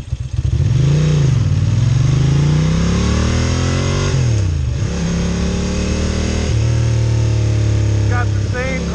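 A Bimota Mantra motorcycle engine with carburetors idles at 900 to 1000 RPM, a loud, steady, lopey rumble with slight wavering pitch throughout the clip.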